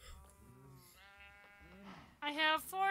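Minecraft sheep bleating, a few nasal bleats in sequence, quieter at first and then a louder, closer bleat near the end, with no talk.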